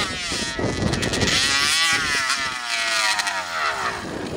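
An RCMAX 80cc gas engine in a 1/5-scale Primal Raminator monster truck, malfunctioning and stuck at full throttle, screaming at high revs with wavering pitch that rises and dips, loud and close.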